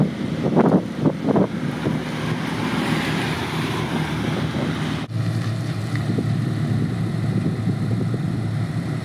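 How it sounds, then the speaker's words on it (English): A Renault Megane RS 265 Cup rolls back in from a track-day stint after a slow cool-down lap. A low engine rumble is heard beneath steady, heavy wind noise, with a few louder gusts early on. "my son is coming back with the Megane now"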